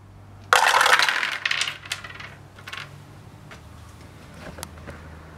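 Four dice rolled onto a HeroQuest game board land in a sharp burst of clattering, then scatter and tumble with a few lighter clicks and settling taps over several seconds, close and clear with no talking.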